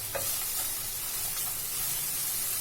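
Mixed vegetables frying for pulao in a pan over a high gas flame give a continuous, moderately loud sizzle and hiss, steady throughout with faint stirring clicks near the start.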